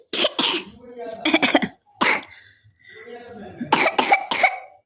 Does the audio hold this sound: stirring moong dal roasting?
no